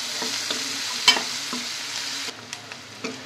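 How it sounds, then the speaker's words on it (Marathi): Finely chopped onion sautés in a pan, giving a steady soft sizzle broken by occasional clicks and scrapes from stirring, close by and with no talking. "कांदा आपण छानपैकी आता परतून घेऊयात, अगदी हलका गुलाबी करायचा आहे।"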